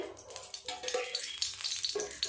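Oil heating in a wok for prawn curry gives an uneven crackling sizzle with bursts of spitting and stirring noise, close and moderately quiet.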